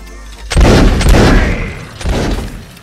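Musket volleys crack out during a battle in the Mount and Musket game, loud and dense, with a first burst of overlapping shots and a second volley about a second and a half later.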